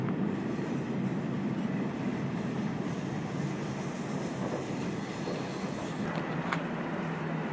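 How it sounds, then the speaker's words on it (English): A train rumbles past steadily, with a continuous roar of wheels on rails and faint squeals near the end, heard from close by. "Here's my last train of the day."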